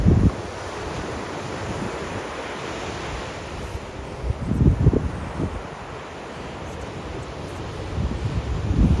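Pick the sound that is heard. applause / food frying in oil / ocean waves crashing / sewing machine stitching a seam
ocean waves crashing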